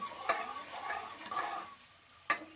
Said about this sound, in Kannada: ಶುಂಠಿ ಕೂಡ ಹಾಕಿದ್ದೀವಿ ರೀ ಸ್ವಲ್ಪ ಅದನ್ನು ಹುರ್ಕೊಳ್ಳ್ರಿ ಎಣ್ಣೆ ಒಳಗೆ